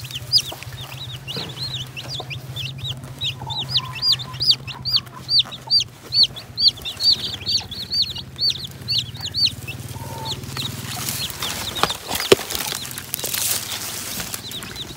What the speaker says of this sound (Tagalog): Ito po ating kaunahang sisiw sa manukan natin ngayon.